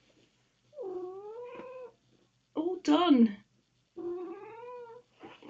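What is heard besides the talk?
cat meowing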